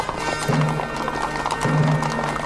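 Several horses gallop in a film scene, a dense, loud clip-clop of hooves with snorts and whinnies, steady and close throughout.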